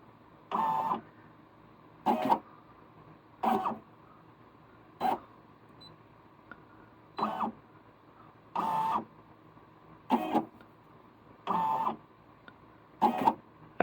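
A computerized embroidery machine traces its stitch outline, heard as nine short, evenly spaced motor whirs, each about half a second long, separated by quiet pauses of around a second. The sound is close and plays alone.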